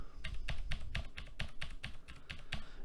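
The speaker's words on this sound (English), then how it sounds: "if I start typing, so I'm going to type" Fingers typing on a computer keyboard, a quick irregular run of close, distinct key clicks and thumps lasting about three seconds, with no voice.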